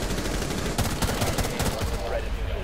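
Rapid bursts of automatic gunfire in a ranked online shooter game, dense crackling shots continuing steadily, with faint voices in the background.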